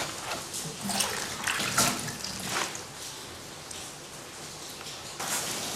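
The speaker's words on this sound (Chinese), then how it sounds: "咱这个要让菠菜洗干净，先把这个根上的泥先给它洗掉" Spinach being rinsed in a basin of water to wash mud off the roots, with steady splashing and sloshing that swells and fades in a few bursts, close up, with no talking.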